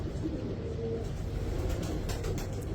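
Soft, low cooing of pigeons, a repeated throaty murmur close by, with light rustling and faint chirps above it.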